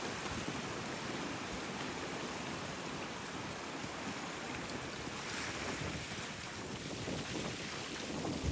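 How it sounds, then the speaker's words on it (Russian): Very strong wind gusting by open water on a Helsinki shoreline, roaring steadily into the microphone over the rush of waves and surf, loud and continuous throughout with no talk. "Ну такой здесь сильнейший ветер."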